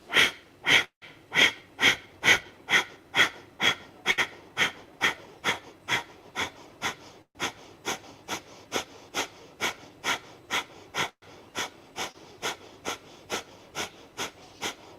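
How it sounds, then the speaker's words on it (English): Breath of fire in a yoga class, rapid rhythmic forceful breaths through the nose, about two per second, sharp and close, repeating evenly with a brief pause midway. "moving into our breath of fire"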